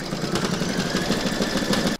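Embroidery machine stitching a lettering design in a hoop, a steady rapid mechanical chatter and hum, close and fairly loud, cutting off abruptly at the end.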